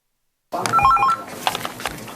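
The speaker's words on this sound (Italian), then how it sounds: "I telefoni non smettono di squillare al centro operativo comunale di Catania" Telephones at the civil protection municipal operations center in Catania give a quick burst of electronic ringing tones after a moment of silence, then fade into faint room noise.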